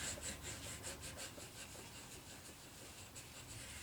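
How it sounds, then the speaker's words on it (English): A bone folder rubs firmly over a Kraft-Tex paper-fabric book cover, giving a soft, continuous scraping and burnishing texture that stays faint and steady throughout. "you want to take your bone folder, and you want to give it a really good burnishing"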